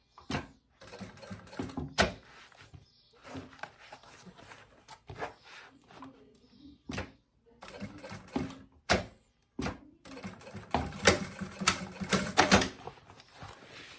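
Sewing machine stitching a pocket onto a maternity bag, running in short bursts with pauses between as the fabric is repositioned, close and fairly quiet, a longer sustained run near the end.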